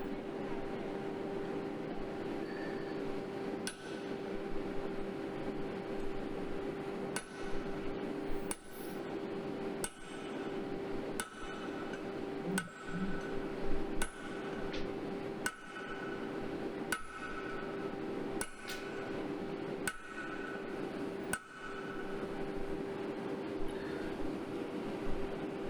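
Hammer blows on metal at a blacksmith's workshop forge, about a dozen sharp strikes spaced a few seconds apart over a steady droning background hum.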